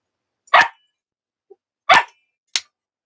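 A dog lets out three sharp, loud barks close by, the first two spaced over a second apart and the third shorter and quicker, with silence between and no talk.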